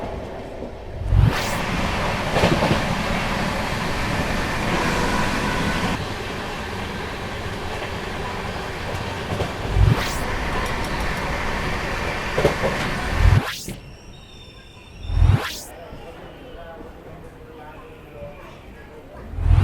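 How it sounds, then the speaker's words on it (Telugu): A passenger express train runs through a station loop line beside a goods train on the main line, a continuous rumble and rattle with periodic sharp clanks and rushing passes. "మెయిన్ లైన్ మీద గూడ్స్ ఉండడం వల్ల సో అందుకోసము మా ట్రైన్ లూప్ లైన్ నుండి పాస్ అవుతున్నారు"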